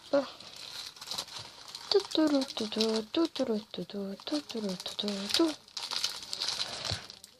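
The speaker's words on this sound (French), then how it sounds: "Avec des ciseaux, bien sûr, mes ciseaux." Scissors snip and crinkle through the plastic wrapping on a magazine, with irregular close-up crackling bursts that run alongside someone talking in French.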